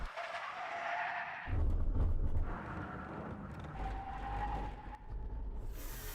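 A Tesla Cybertruck and a Lamborghini Urus brake hard from around 110 km/h, tires skidding and squealing loudly in a long, rough burst, with a motor whine before and engine rumble after.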